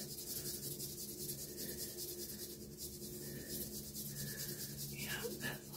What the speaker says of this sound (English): my fingertips and my knuckles, kind of just dragging along, feeling around the curves and the muscles in your neck